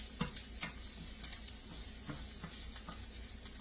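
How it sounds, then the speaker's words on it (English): Food sizzles in a frying pan with a steady soft crackle, broken by occasional stirring clicks and pops, fairly faint and without voices. "pinch the sides together, and then put it in the frying pan"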